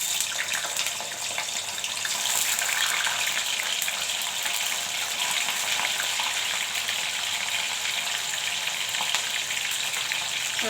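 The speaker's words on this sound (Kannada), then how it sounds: "ಈ ಪನ್ನೀರನ್ನು ಎಣ್ಣೆಯಲ್ಲಿ ಫ್ರೈ ಮಾಡ್ಕೊಳ್ಳೋಣ" Paneer cubes frying in hot oil in a pan, giving a continuous dense sizzle and crackle at close range with no talking.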